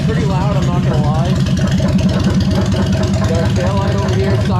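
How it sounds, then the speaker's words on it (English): Loud, rowdy motorcycle engine running close by with a throbbing low rumble and steady pulsing exhaust, while someone talks over it throughout. "Bike sounds great, runs great. It's pretty rowdy, it's pretty loud"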